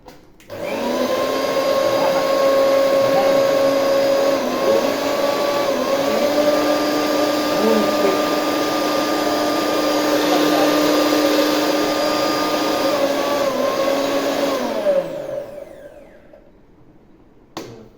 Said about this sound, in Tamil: நல்லா இருக்குது ப்ரெஸ்டீஜ் மிக்ஸி.